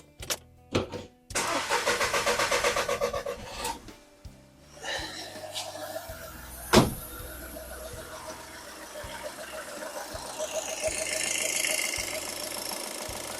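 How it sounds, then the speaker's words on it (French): A VW Polo V TDI diesel engine restarts after a fuel filter change: the starter cranks in short stuttering attempts, then the engine catches with a sharp clack and settles into a steady, clattery idle. "Ça a un petit peu galéré pour démarrer."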